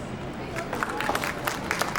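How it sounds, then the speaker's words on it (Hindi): Loud applause and clapping from an audience at a Republic Day plant festival event in Mumbai, a dense, steady wash of many hands with crowd murmur, sustained throughout. "जोरदार ताली के बीच में"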